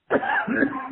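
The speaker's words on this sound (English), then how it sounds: "Morning cough." One hoarse morning cough close to the microphone, a rough burst of throat-clearing that lasts under a second, with no one talking.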